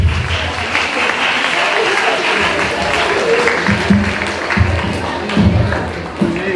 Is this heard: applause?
yes